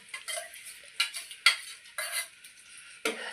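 Ground tomato and coriander paste being stirred into a fish curry, with a spoon scraping and knocking against the pot in several short bursts and a faint sizzle between strokes.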